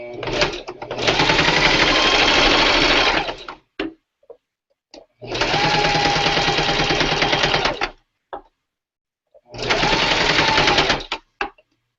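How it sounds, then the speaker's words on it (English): A sewing machine stitches down a French seam in three loud bursts of steady whirring, each lasting a few seconds, with short pauses and small clicks and handling noises between runs. "So let me go and sew that down, and then we'll see what we have."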